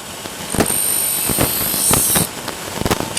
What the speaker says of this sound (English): So spin the wheel up. It's a diamond wheel, so it cuts it doesn't grind.